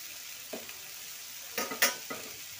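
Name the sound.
stirring jaggery and tamarind into orange pickle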